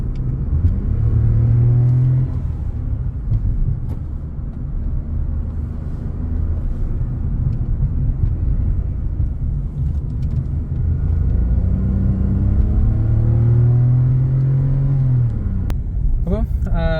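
A Suzuki Fronx with a 1-litre turbo engine pulling under throttle while driving, a loud steady low engine drone with rising and falling tones, heard inside the cabin beneath continuous talking.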